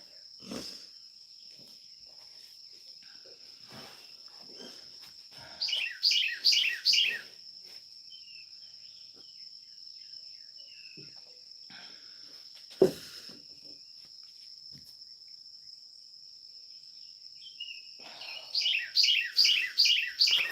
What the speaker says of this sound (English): Very tiny little loud bird.